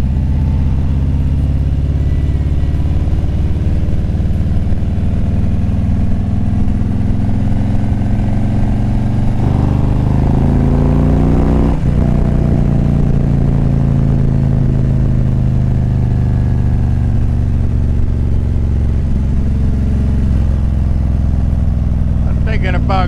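Steady low engine rumble of a motorcycle on the move, loud and continuous, with a voice speaking over it and a brief rise in pitch midway.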